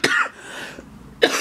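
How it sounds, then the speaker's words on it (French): A person coughs twice, near and fairly loud, one short burst at the start and a second after a quiet gap of about a second, each rough and breathy. "du coup je tousse en même temps"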